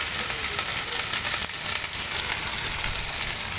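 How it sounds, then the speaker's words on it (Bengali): Sliced onion frying in mustard oil in a pan while it browns, giving a steady, close, loud sizzle with dense crackle throughout and no speech. "পেঁয়াজটা একদম ভালো করে একটু ব্রাউন কালার করে নেব"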